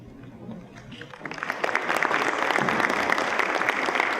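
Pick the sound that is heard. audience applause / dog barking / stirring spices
audience applause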